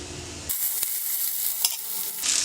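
Steady crackling sizzle of cumin and asafoetida frying in hot oil, loud and continuous for a couple of seconds with a few sharper pops.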